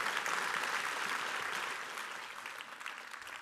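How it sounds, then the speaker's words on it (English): Audience applause at an ocean-themed conference panel session, a steady crowd of clapping hands that holds evenly and then eases slightly toward the end, with no talking. "Please give him a big round of applause, everybody."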